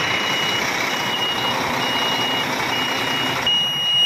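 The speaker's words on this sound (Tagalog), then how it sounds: "naririnig nyo po, maingay siya. Pagka ibig sabihin yan, nakaangat yung kanyang dump box" A 400-horsepower 2023 HOWO NX dump truck's alarm beeps steadily with its dump box raised, over a loud, constant engine drone, with no one talking.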